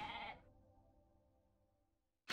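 A goat in the video game Okami HD lets out one short, bright bleat, followed by a quiet fading tail.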